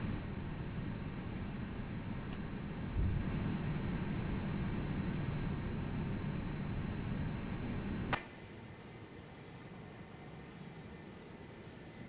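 A Toliss Airbus A319 taxiing at Malaga in the X-Plane 11 flight simulator, steady jet engine whine and broadband rumble that swells briefly, then drops abruptly to a quieter hum after a sharp click.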